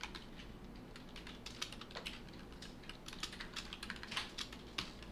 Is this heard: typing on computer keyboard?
yes